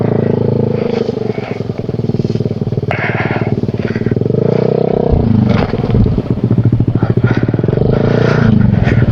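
Motorcycle rides a rough, bumpy plantation road, its engine droning loud and close throughout with rattles, scrapes and jolts from the uneven surface.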